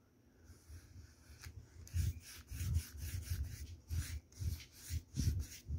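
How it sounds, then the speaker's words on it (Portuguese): Sandpaper rubbing over a wooden table between coats of sealer makes quiet, close, rhythmic back-and-forth strokes in a steady series. "Lixa, lixamento no intervalo entre um e outro."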